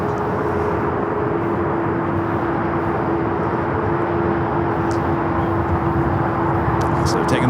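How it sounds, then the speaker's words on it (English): A Qantas Dreamliner is towed across the airfield at Los Angeles to the Qantas hangar, a constant low rumble with a steady tonal whine running beneath it and faint talk nearby. "So taking this Qantas Dreamliner over to the Qantas hangar"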